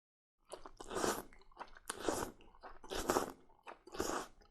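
Ramyeon noodles being eaten up close: four loud slurping, chewing bursts come in an even rhythm with short pauses between them, crisp and wet, with no talking.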